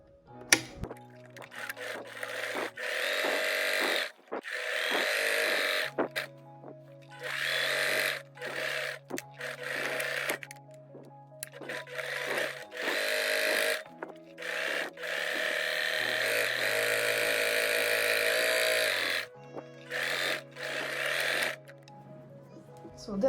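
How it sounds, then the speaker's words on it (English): A sewing machine running in steady bursts while stitching a French seam on a pillowcase, with a mechanical motor whir and rapid needle chatter that starts and stops repeatedly, up close, with occasional soft speech. "And I will also stitch it a little bit wider than a half of an inch."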